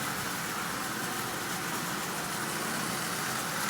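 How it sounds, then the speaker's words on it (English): A repaired Marx 1666 toy train runs at constant speed around the track pulling twelve tin litho cars, a steady continuous whirring rumble with no pauses. "Good constant speed all the way around the rail, pulling 12 tin litho cars with absolutely no problem at all."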